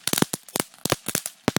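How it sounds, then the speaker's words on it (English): Fireworks set off in a backyard fire pit at a Halloween party, a rapid run of sharp firecracker pops and crackling bursts in uneven clusters, loud and close, with no talking. "On Halloween, we shoot fireworks in our"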